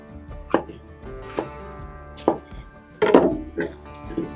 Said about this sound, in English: Now with this nice little heart we have left here, I'm just going to slice that up.